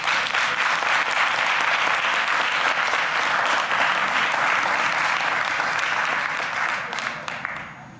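An audience claps loudly and steadily to welcome Dr. Jeff Menzise at a Wisdom Wednesday talk, thick sustained applause that holds for several seconds before thinning out near the end.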